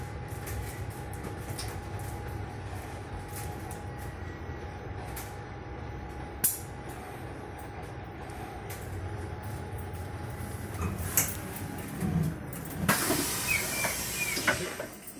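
Bus pulling up alongside a bus stop at Cheltenham Racecourse, a steady low engine rumble under faint clatter, ending in a loud hiss of air brakes or doors.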